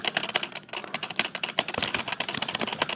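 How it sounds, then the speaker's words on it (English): A working typewriter built from Lego bricks clacks through a quick, steady burst of close keystrokes, each one a sharp plastic tap with no pauses. "Typewriter really works."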